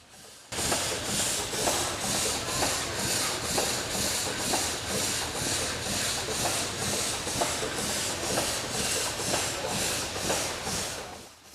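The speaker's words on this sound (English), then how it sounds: "Here's a steam engine operating a reciprocating saw." A full-size steam engine drives a reciprocating saw at an antique gas and steam show, giving a steady loud hiss and churn with an even, rapid rhythmic pulse throughout.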